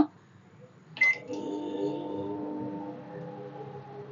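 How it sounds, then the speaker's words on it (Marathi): A microwave oven being started to cook a Malvani-style field bean (val) curry: a short, bright electronic beep, then a low, steady hum of the oven running, fairly faint and close. "इथे वर बघाल आणि स्टार्टचं बटन दाबलेलं आहे."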